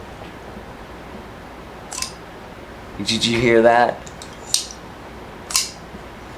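A Kansept Goccia titanium folding knife flicks open with a quick metallic snap and ring, followed by a few short, sharp clicks, heard close up with a voice speaking briefly.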